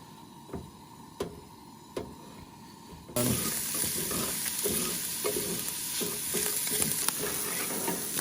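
Walmart-brand maple sausage gravy thickening in a camp pan. A few light clinks give way to a loud, continuous sizzle with the spoon scraping and stirring through it, close up and without talk.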